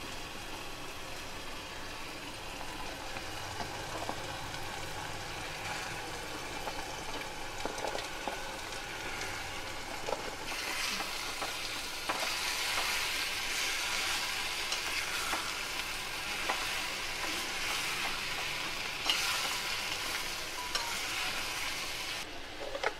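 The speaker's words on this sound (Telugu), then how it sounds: "ఇప్పుడు క్యాప్సికమ్ ముక్కలు వేసుకుందాం" Capsicum pieces fry in a pan with a continuous close sizzle and occasional stirring scrapes, the crackle growing louder and brighter partway through, no voices.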